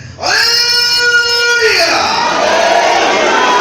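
Members of a church congregation raise one loud, sustained shout of acclamation that swells in unison, then breaks into a broad, noisy roar of many voices.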